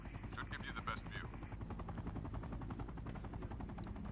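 A helicopter in the Sniper Ghost Warrior 2 video game makes a continuous rhythmic rotor chop under game noise, with a short burst of higher sounds early on.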